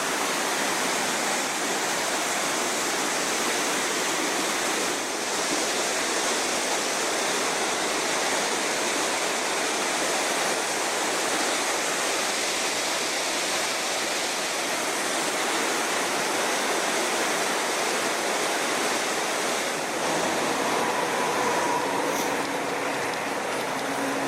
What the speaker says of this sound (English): I'm alongside the Little Qualicum River. It's just below me on my left.